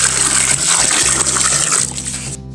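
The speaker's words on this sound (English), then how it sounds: "the next thing you want to do now is to go in with some reasonable amount of water" Water pours steadily and loudly over cut pieces of yam for making yam flour, a continuous splashing gush that tapers off at the end.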